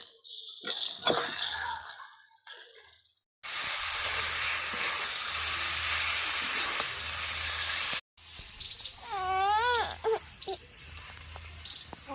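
Fried chicken pieces hit hot biryani masala in a village-style chicken biryani: a loud, dense sizzle that bursts in mid-clip and runs several seconds, framed by quieter kitchen noises and other sounds before and after.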